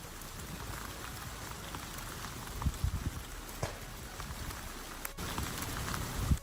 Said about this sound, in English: during a windstorm where it's actively raining